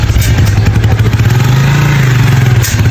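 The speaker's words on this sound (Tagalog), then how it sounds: "kinabit namin ang kulang na kadena para matesting at mapaandar natin ang motor" Long custom-built motorcycle in Davao Oriental being test started, its engine running loud and close with a steady low drone that rises and falls slightly, with some mechanical clatter throughout.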